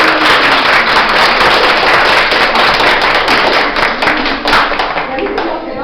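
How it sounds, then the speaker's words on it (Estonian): A crowd of children and adults at a school graduation party breaks into loud, dense applause, many hands clapping close by in a continuous burst that lasts several seconds, with voices mixed in underneath. "Ja teeme suure aplausi"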